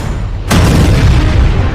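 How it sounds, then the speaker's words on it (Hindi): An explosion at a Russian weapons depot in Krasnodar, heard as one sudden heavy boom that breaks into a loud, sustained rumbling roar, with no voices over it. "रूस के क्रास्नोडार हथियार डिपो में हुआ धमाका"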